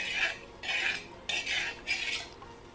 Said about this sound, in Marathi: चांगलं ह्या दह्याच्या गाठी असते त्या असं खडं खडं ती विरघळायचं असं चमच्यानं आणि मस्त असं मिक्स करून घ्यायचं